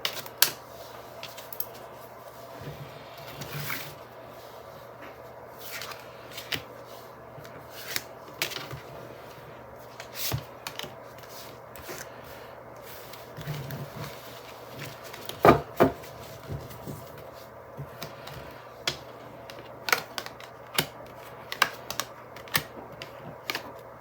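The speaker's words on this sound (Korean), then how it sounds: "구체적으로 카드를 한번 뽑아볼게요." Tarot cards are shuffled and drawn, producing a scattered run of light taps, flicks and soft clicks at irregular intervals over a quiet background.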